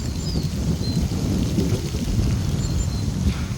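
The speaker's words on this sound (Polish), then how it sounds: "Deszcz już zaczyna padać" Rain falling steadily with a soft hiss and patter, a dull rumble underneath and a few faint bird chirps in the distance.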